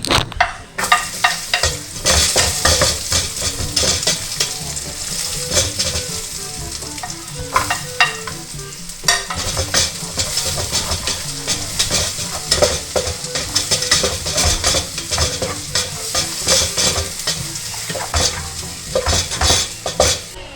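Garlic frying hard in a pan for chicken tinola, burnt at the edges, gives a loud continuous crackling sizzle with frequent clattering stirs of a utensil against the pan.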